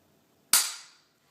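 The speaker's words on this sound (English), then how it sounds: "Then you can try the trigger pull." X-Mark Pro trigger pulled and its firing pin snapping forward, a single sharp, loud, close crack that decays within about half a second out of silence.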